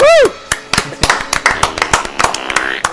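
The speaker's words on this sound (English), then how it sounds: "Do you want to do that clapping thing?" Hands clapping in a scattered, uneven series of about a dozen sharp claps, close and fairly loud, with a brief whistle-like tone and voices around them.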